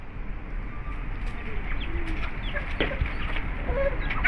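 Fighter roosters cluck and call among other fowl outdoors, short clucks and a brief crow-like call scattered over a steady background of ambient noise, with no one talking.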